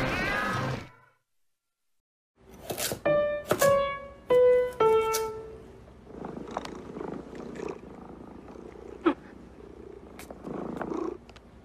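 Several cats meow in short, clear, tonal calls, one after another, then softer purring and small noises follow, close and fairly loud, set in a Meow Mix cat food commercial.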